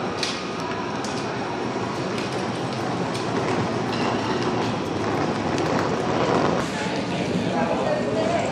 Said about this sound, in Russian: вокзал в Зальцбурге.